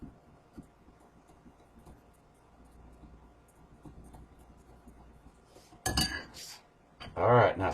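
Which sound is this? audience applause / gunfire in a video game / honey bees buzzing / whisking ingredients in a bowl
whisking ingredients in a bowl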